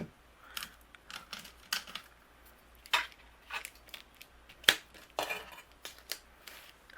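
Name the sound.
die cutting a Christmas card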